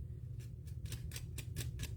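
Scissors snip through paper for a papercraft card, about six quick crisp cuts in a steady rhythm over a low background hum, close and fairly quiet.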